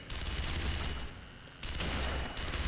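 Enemy gunfire in Sniper Elite V2 comes as a sustained, dense fusillade of rifle and machine-gun shots from several directions, loud and continuous with a brief lull in the middle before the barrage resumes.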